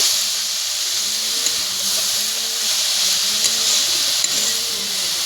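Bothar saag leafy greens frying in a pan at home, a steady broad hiss of sizzling steam running evenly throughout with faint low clinks, no voices.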